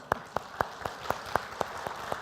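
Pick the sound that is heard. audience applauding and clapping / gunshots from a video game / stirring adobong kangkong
audience applauding and clapping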